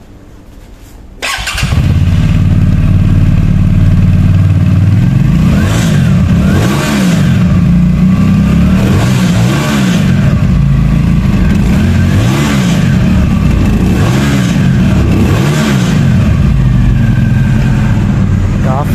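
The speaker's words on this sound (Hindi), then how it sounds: "तो अभी हम लोग इसके एग्जॉस्ट को सुन लेते हैं आराम से।" A Keeway Benda V302 C 302cc cruiser motorcycle engine starts and idles with a deep exhaust rumble, then revs repeatedly in rising and falling surges, loud and close.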